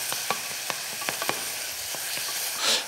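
A very ripe banana cooks down in caramel in a pan, a steady soft sizzle with occasional light clicks of stirring, and a brief louder hiss near the end, no talking.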